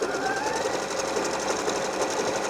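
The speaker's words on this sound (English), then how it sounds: "if you're sewing a towel, you don't want to do too much or else it kind of flattens the little loops on the terry towel" A Bernette b38 sewing machine stitches a mend across terry towel, its needle running in a steady, fast mechanical chatter close by without any voices.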